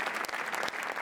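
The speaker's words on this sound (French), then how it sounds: "Je crois que c'est Julia Roberts qui se fait applaudir ainsi." Brief burst of enthusiastic applause for stars on the red carpet steps at the Cannes Film Festival, many hands clapping densely at a moderate distance.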